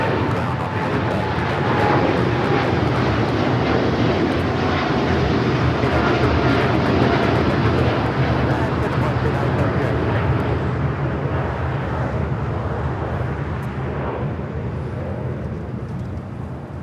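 A United Airlines airliner roars at an airport, a broad, steady engine rumble that swells and holds for many seconds before slowly easing, heard from a distance with faint voices beneath.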